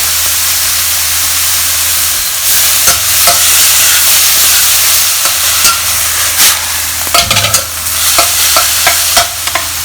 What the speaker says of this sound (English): You just cook this meat until you don't see any redness on this meat.